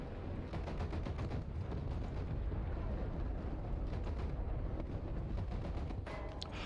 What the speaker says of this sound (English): I shot my gun and everything